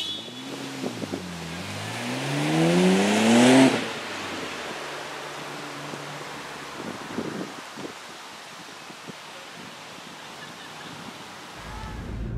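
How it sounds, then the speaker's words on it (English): Scion FR-S and Nissan Skyline GT-R launching in a drag race, engines revving in a loud rising sweep of gear changes that peaks after a few seconds, then fades to distant road and wind noise. "here's a legitimate drag race between the Scion and my Nissan Skyline GTR"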